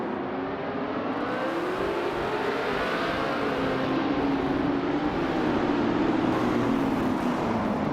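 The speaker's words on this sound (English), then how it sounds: "driving a classic 1966 McLaren N10A in the Formula 5000 class" A classic 1966 McLaren M10A Formula 5000 racing car in a video game roars steadily at the start of a race, with engine pitch rising and shifting throughout and other cars' engines blending in, loud and continuous with no talking.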